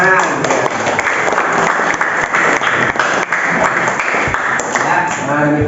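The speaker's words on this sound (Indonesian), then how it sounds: "Tepuk tangan." Steady, loud applause from a crowd, continuous clapping throughout with no clear pauses.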